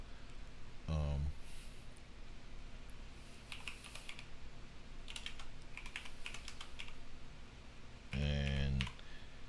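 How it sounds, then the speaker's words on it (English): Soft clicks of typing on a computer keyboard come in scattered bursts at low level, between two short stretches of a person talking nearby. "I'm gonna type it out"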